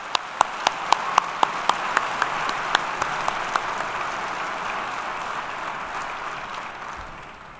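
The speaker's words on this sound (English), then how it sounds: "Let's have one more round of applause for our District Detectives of the Year." At a police awards ceremony, the crowd applauds District Detectives of the Year: sharp, distinct claps up close open the burst, then dissolve into a dense, rolling wash of applause that slowly fades.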